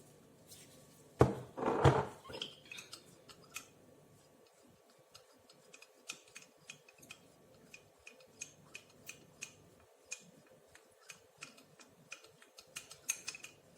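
Hyaluronic acid serum ingredients are stirred together in a small container, with a short louder scrape near the start followed by faint, irregular clinks and ticks.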